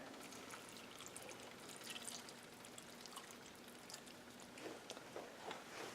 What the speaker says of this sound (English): We are going to add 2/3 cup water.